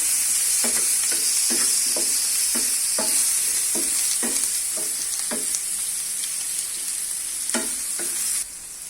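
Onion and tomato sautéing in a pan for chilli garlic prawns, a continuous bright sizzle punctuated by regular scraping strokes of a spoon stirring, then dropping slightly quieter at the end.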